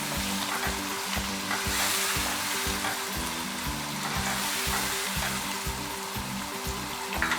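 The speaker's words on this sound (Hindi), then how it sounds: "अच्छी तरह इसको भूनें 3-4 मिनट" Tomatoes for aloo gosht fry in a pan with a steady, dense sizzle, lightly stirred throughout, close and continuous with no voices.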